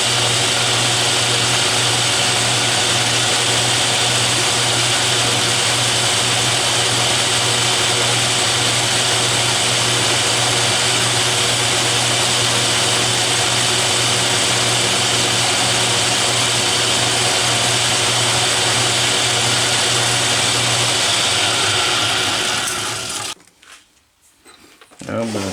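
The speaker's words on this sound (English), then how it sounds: "the first thing I'm going to do is face it off" A steady, loud machine whine with a constant motor hum runs continuously as an Atlas metal lathe faces off a workpiece, then cuts off abruptly near the end.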